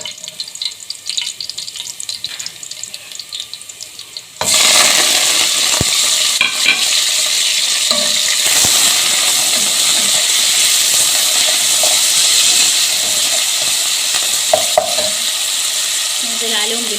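Garlic frying in oil in a pot with coriander and vegetables such as tomato and red pepper: quiet movement at first, then an abrupt loud, continuous sizzle and hiss with occasional stirring clinks.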